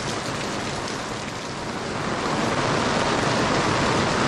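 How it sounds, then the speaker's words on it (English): Heavy rain pours down at a campsite in a dense, steady hiss that swells slightly louder toward the end, with no voices. "it's raining, and yeah, it's raining. Actually, it's pouring."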